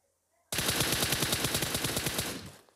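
Sustained automatic gunfire in PUBG, a rapid burst of evenly spaced shots starting abruptly and rattling loudly for about two seconds before cutting off.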